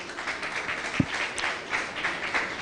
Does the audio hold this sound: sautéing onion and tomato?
no